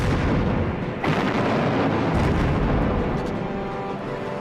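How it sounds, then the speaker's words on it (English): Artillery bombardment during the WWII battle for Singapore: a continuous, dense rumble of distant heavy guns and explosions with a sharper burst about a second in, no voices. "He launched a devastating artillery bombardment and relentless air attacks"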